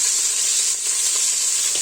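Oxtail pieces searing in an Instant Pot, giving a continuous close hiss and sizzle with faint crackles, steady for the short stretch.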